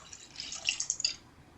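Truly wild berry hard seltzer pours into a cup in a short, splashy trickle with bright fizzing drips, close up and fairly quiet.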